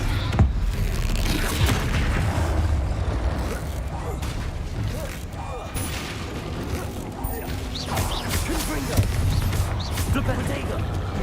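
Booming spell blasts and crashing impacts from the fire-blast spell Confringo in the video game Hogwarts Legacy, rumbling through a dense, busy mix while a voice talks over them.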